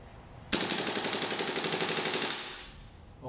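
An airsoft gun fires BBs on full auto at about 11.7 rounds per second, one loud close burst of rapid, even clicking shots lasting about two seconds and then stopping.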